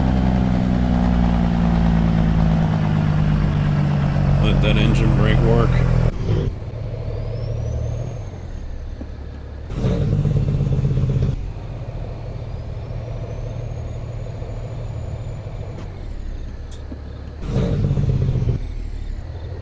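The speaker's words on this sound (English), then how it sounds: "Let that engine brake work." A truck's engine brake in American Truck Simulator on an offroad drive: a loud, low diesel rumble that cuts in and out in bursts over a steadier engine drone.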